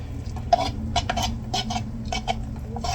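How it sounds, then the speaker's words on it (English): A wooden spoon is pressed down into jars of chicken and broth to release air bubbles. Close by, it makes soft irregular knocks, light clinks against the glass and faint muffled scraping, all in a quiet room. "I'm gonna come back and debubble them by pressing in a wooden spoon"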